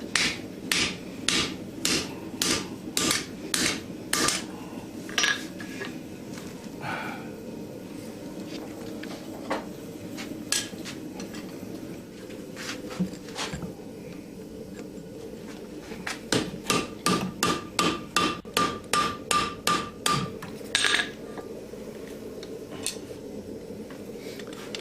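A hammer strikes an herb chopper knife blade to straighten it at the forge, landing in fast rhythmic runs of sharp ringing blows that pause and then resume, loud and close.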